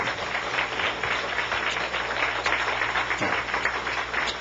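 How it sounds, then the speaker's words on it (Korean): A church congregation at a new-life festival gives a welcoming round of applause, a continuous, fairly faint wash of clapping with no clear breaks. "여러분들 다 환영의 박수를 한번."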